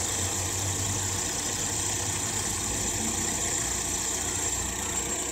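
A car engine idles steadily after a faulty part inside the valve cover was replaced, with no one revving it; a constant, even mechanical hum runs throughout with no talk.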